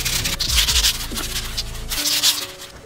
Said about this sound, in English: So you just get right in there with those grip tape pieces,